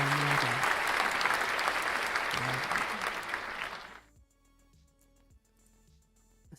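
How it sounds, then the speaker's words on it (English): Hand clapping from a small group at a YouTube anniversary livestream, dense and steady for about four seconds before stopping abruptly into quiet music. "Do you actually want some clapping for that?"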